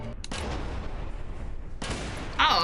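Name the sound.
gunfire in the video game Prison Architect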